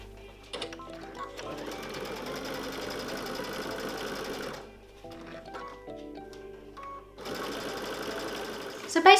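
Sewing machine stitching a wedge-shaped patchwork piece onto batting and backing for a crazy quilt, running in two steady bursts of rapid mechanical whirring separated by a brief pause with light handling sounds.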